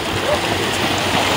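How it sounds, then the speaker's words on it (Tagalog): Steady rain falls outdoors beside a stream crossing during fishing, a continuous broadband hiss of water filling the scene with no break. "Naulan naman! Umuulan eh. Umuulan."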